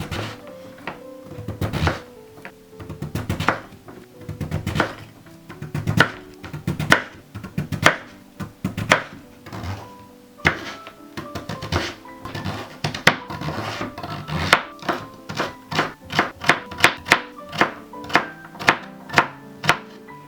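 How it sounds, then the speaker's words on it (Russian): Steady knife chopping pumpkin into small cubes on a board, rapid repeated thuds that speed up into a brisk, regular rhythm, close and fairly loud with no voices. "Нарезаем на небольшие кубики."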